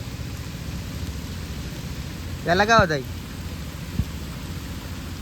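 Steady rain hisses evenly throughout during a day of rice paddy transplanting, with a short spoken phrase briefly rising above the downpour midway.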